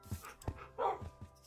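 Dogs bark and yip in a Minecraft kennel, several short game-sound barks spread unevenly across a brief moment, fairly faint and close together with no talking over them.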